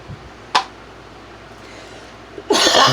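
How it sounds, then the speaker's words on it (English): A woman coughs indoors: one sharp, brief cough early on, then a longer, harsh burst of hacking coughs toward the end, close and loud against a quiet room. "Just one thing while I'm coughing and hacking."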